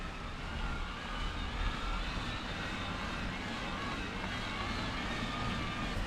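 Steady, fairly quiet broadband whir and rush from an electric mountain bike's Bosch motor, comparing a Lapierre Overvolt GLP 2 and a Haibike AllMtn SE, running continuously with no speech.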